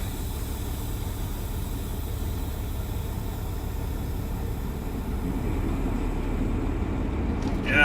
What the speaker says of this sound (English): his tires are spinning. He can't get any traction here.